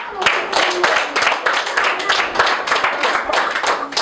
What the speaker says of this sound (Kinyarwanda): Reka tumukomera amashyi cyane